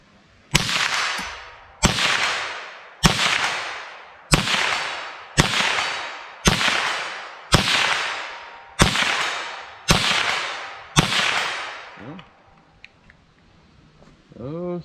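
A rifle fires Aguila Interceptor 40-grain .22 LR rounds, ten loud, sharp cracks at a steady pace about a second apart, each with a ringing decay, followed by a brief voice at the end.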